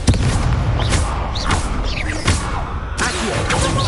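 Booming spell blasts and crashing impacts in Hogwarts Legacy combat, several loud bursts in quick succession with whooshing effects throughout.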